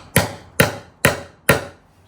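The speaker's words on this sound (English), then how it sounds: "Let's just keep hammering, I guess." Four sharp hammer blows strike a wooden step stool at an even pace, each a loud crisp knock with a short decay, close by and without talk.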